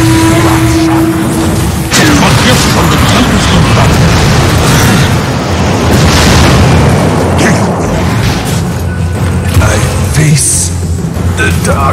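Barracks destroyed in Dota 2: a loud booming explosion and crumbling rumble amid battle noise, with an announcer voice speaking over the sustained destruction.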